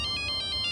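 A phone ringtone in a Crime Patrol drama episode, a steady electronic tone pulsing in quick regular bursts, loud and close with no voices over it.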